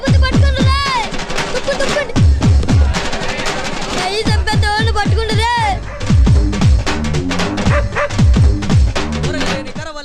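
Several dogs bark loudly and repeatedly in quick bursts, with some sharper yelps mixed in, close by.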